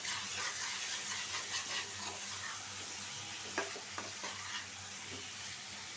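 Ash gourd curry sautés and stirs in a pan with a constant low sizzle and hiss, broken by a few light scraping taps from the spoon near the end.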